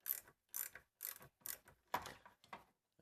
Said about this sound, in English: We get this the top nut off as well.